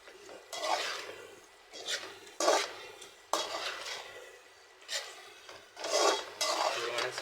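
Chicken pieces mixed with salt and turmeric in a pan as a spoon scrapes and stirs in repeated bursts, close and moderately loud, with faint sizzling between strokes.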